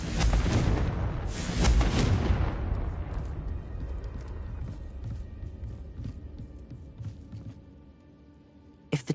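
A fiery Confringo spell in the Hogwarts Legacy video game erupts in a loud, booming explosion. It is followed by a long rumbling decay and scattered crackling debris that fades toward near silence.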